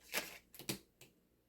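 A few quick papery riffles of cards being shuffled, close by, in short bursts with brief pauses between them.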